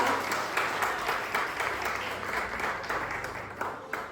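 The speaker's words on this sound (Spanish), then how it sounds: "den un aplauso al Señor" Sustained applause fills a church congregation at a Thursday Bible study, a dense steady clatter of many hands that stays loud and even throughout, with no talk over it.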